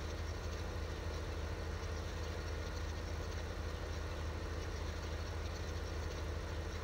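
A tractor engine idles in the Farming Simulator 15 game, a steady, continuous low rumble that holds at an even level throughout, with no voices over it.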